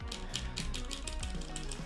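Rapid, muted clacking of mechanical keyboard switches being typed on, a steady stream of soft clicks up close with a low background hum.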